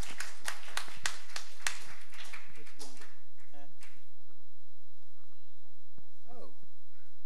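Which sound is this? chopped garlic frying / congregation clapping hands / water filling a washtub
congregation clapping hands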